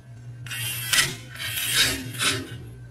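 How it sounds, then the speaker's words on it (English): Electric trunk release actuator from a Honda, opened up and flipping its latch back: three raspy, grinding mechanical bursts with a steady low motor hum underneath, close and fairly loud. "let's see if I can hold this and show you it flipping the latch back"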